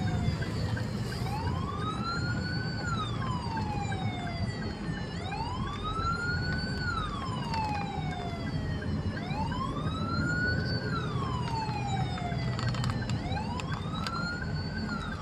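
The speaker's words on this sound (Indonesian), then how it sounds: "Ambulan di belakang kita." A wailing ambulance siren sweeps up and down in slow repeated cycles over a steady road rumble, loud and fairly close.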